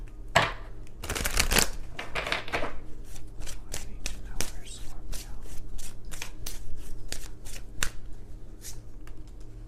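Deck of tarot cards being shuffled close up, with a quick riffle burst at the start followed by a series of soft, repeated card slaps and taps.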